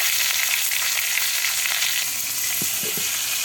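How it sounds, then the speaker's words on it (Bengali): Fish pieces rubbed with turmeric, salt and chili sizzle in hot oil in a karahi, a loud, continuous close-up hiss with a few soft low knocks near the end. "মাছগুলো আগে হলুদ লবণ মরিচ দিয়ে মেখে রেখেছিল, এখন সুন্দর করে ভাজি করে নেবে।"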